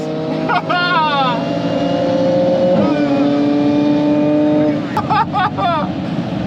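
Audi B8 S4 with dual pulley on E40 racing an Audi RS3 Stage 1+ on E85 down a quarter-mile drag strip: loud engine drone with rising and shifting revs, heard from inside the car under excited talk.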